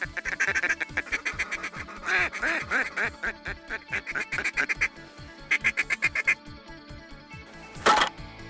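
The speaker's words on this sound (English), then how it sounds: "the ducks are coming right at us" Ducks quack in repeated rapid bursts as they fly in toward a hunting spot, loud and near, with a louder flurry of calls near the end.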